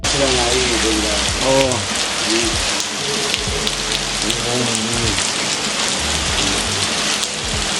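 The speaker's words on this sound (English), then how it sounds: "The rain is pouring down." Heavy rain pours down in a steady, loud hiss, with a voice speaking intermittently underneath the downpour.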